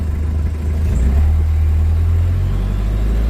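Car engine held at high revs against the brake to build boost, a loud, close, steady low rumble that swells and stays strong throughout with no voices.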